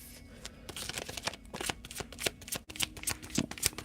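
Tarot cards being shuffled, a rapid close run of crisp riffling flicks and papery snaps in irregular bursts, with no talking over them.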